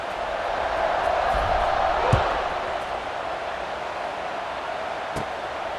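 A stadium crowd in the College Football 26 video game roars as a steady, broad wash of cheering, with a couple of sharp thuds cutting through it.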